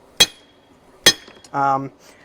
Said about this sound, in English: I'm just driving this drift through the other side of the hammer